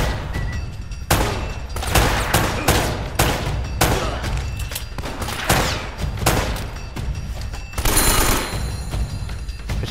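Sustained AK rifle fire in Uncharted: Drake's Fortune, loud rapid bursts of gunshots with short pauses between volleys and heavy booming impacts, continuing throughout with no talking.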